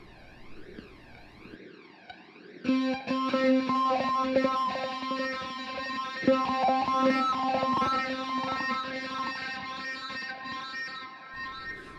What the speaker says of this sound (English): I'd like to use the Harmonic Distortion preset.